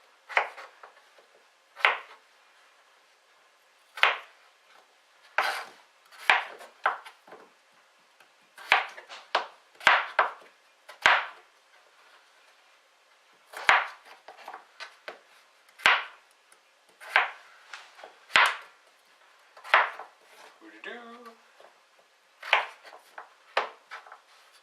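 A knife chops vegetables into cubes on a board for broccoli soup, giving sharp, close, evenly spaced strikes with short pauses between bursts, heard alone in a quiet kitchen.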